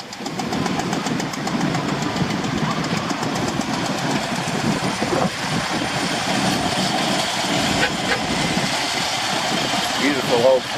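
A vintage De Dion-Bouton car arrives during the Old Crocks Run, its old engine chugging and knocking steadily and fairly close throughout, with voices talking over the running motor.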